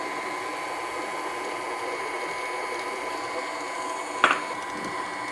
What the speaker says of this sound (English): just start creaming your butter